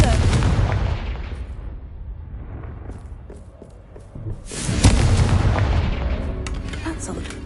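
A Confringo blasting spell explodes in the Hogwarts Legacy video game, a loud booming blast that decays, then a second heavy explosion with crackling debris and rumbling aftermath.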